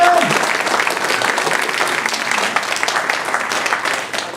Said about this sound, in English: can we give them a round of applause for doing a concert